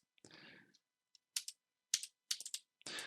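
Bursts of keystrokes on a computer keyboard while HTML code is typed, coming in short quick clusters with brief pauses between them, close and fairly quiet.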